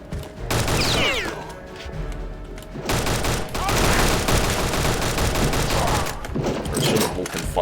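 Video game gunfire in a World War II German setting: loud bursts of rapid automatic shots, clattering fusillades and mechanical clanks come in waves, with a voice talking now and then over the shooting.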